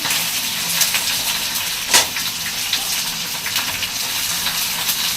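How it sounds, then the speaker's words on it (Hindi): Onions dropped into hot oil and frying, a steady broad sizzle with a sharp crackle burst near the start, close and moderately loud, no voices over it. "तेल गरम हो गया है तो मैं प्याज को डालूंगी इसमें।"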